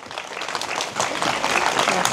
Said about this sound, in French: Donc je pense qu'on peut l'applaudir.